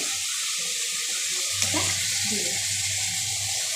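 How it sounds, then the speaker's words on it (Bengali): Water is poured into a pan of fish curry on the stove, a steady close splashing rush over a low sizzle from the pan. "জল দিই। একটু জল দিয়ে"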